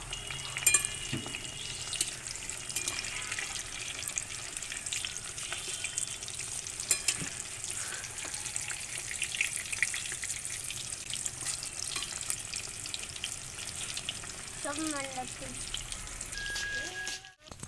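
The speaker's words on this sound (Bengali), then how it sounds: "চপগুলোকে ভেজে নেব।" Green banana, prawn and potato chops fry in hot oil with a steady, busy sizzle that continues throughout, with occasional clinks of a utensil being turned.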